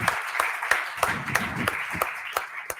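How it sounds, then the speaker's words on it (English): A small audience at a closing ceremony claps for a few seconds, scattered hand claps with a voice briefly audible underneath. "So also to you, I think you deserve an applause."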